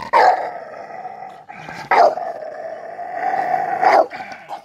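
A dog growls and barks on a leash and harness, sounding close and loud: three sharp barks spaced about two seconds apart, each trailing into a sustained throaty growl.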